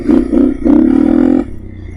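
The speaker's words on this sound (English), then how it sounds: "Man, this bike sounds so good." A dual sport motorcycle with an aftermarket exhaust revs on a sandy trail, three loud, deep throttle blips building to a sustained growl before dropping back to idle, close by.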